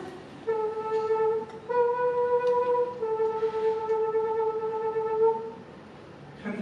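A human voice imitates a flute with a breathy, pure-toned sung melody of a few sustained notes, moderately loud against faint room noise.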